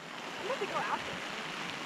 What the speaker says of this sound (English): It is raining, but I think it's just a quick little storm.